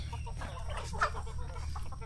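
Country chickens and roosters cluck on a small farm, where a couple of big roosters are kept with the flock. The soft clucking is fairly close and steady, with one louder call in the middle, over a low hum.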